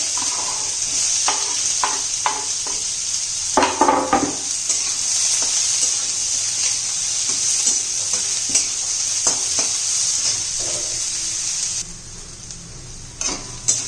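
Grated coconut roasts in a pan for a fish curry, with a steady bright sizzle running throughout and repeated stirring scrapes and taps at irregular intervals, the hiss dropping partway through.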